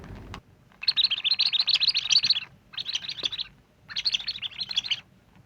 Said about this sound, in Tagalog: Ito nga yung toy bird na mayroong real sound ng mga bird.